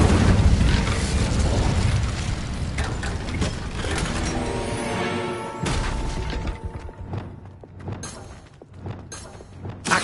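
A fire spell cast in the video game Hogwarts Legacy: a loud, roaring burst that fills the opening seconds, then fades into crackling and ringing tones, with a few sharper pops near the end.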